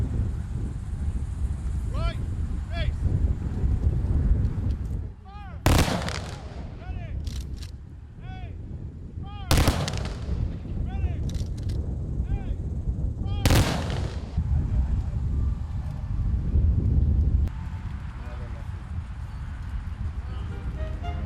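Rifle volleys of a 21-gun salute crack out at a veterans memorial ceremony, several sharp loud reports spaced seconds apart, each ringing out over wind noise and distant crowd murmur.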